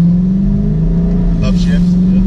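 A Dodge Charger Daytona 392 V8 drones steadily from inside the car as it slows and downshifts, with a brief blip in the engine note partway through.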